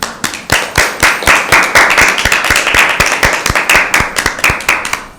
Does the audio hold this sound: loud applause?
yes